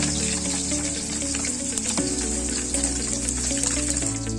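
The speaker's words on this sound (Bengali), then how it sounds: "বাকি মাছগুলো এইভাবে ভেজে নিচ্ছি" Rui fish pieces fry in hot oil with a steady, dense sizzle that stays close and even throughout, with no voices over it.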